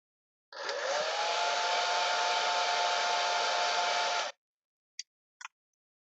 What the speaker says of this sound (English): I'll put some more heat into this by blowing hot air with the help of a hair dryer